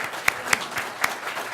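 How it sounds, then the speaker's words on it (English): Audience applause at an Illinois State Treasurer debate, a steady wash of clapping with a few sharper individual claps standing out, moderately loud and without talk. "Round of applause."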